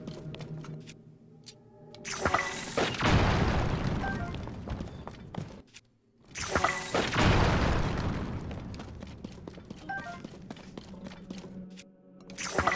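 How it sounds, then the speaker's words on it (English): Bombs detonating in The Legend of Zelda: Tears of the Kingdom, two loud booming blasts a few seconds apart, each with a rolling, crackling tail that fades before a brief silence. "let's try some bombs on this"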